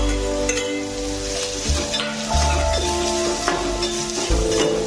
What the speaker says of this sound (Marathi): हे आपल्याला चांगलं परतून घ्यायचं आहे।